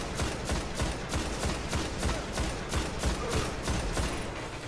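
Rapid gunfire in a shooter video game, loud, dense bursts repeating in a steady rhythm throughout with no pause.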